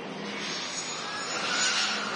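Boeing 767 jet at Manchester Airport, heard as a steady broadband engine roar that swells slightly toward the end, fairly close and sustained with no voices.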